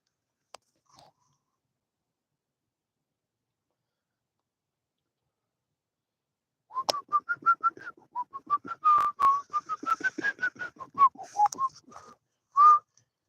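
A person whistles a melodic tune meant to be Dixie, a run of quick warbling notes close and clear after a long silence, with no talking.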